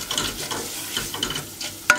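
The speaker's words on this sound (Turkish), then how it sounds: "bir iki dakika daha kavuracağım" Erişte noodles sautéed in a pot while making soup, giving a steady soft sizzle and scraping stir throughout, with a sharper clink near the end.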